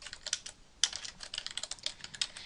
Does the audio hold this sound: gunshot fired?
no